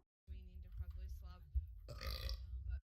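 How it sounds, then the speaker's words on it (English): A burp replayed through a live stream comes as a loud, rough burst in the second half, following a stretch of indistinct talk. "It replayed my burp like 4 times"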